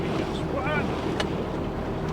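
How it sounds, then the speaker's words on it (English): Steady wind roars across the microphone on a 1976 Starcraft boat cruising the wide open Mississippi River, loud and close, with water rushing beneath the hull. "We got a nice breezy day today, and the wind gets a pretty good shot at you"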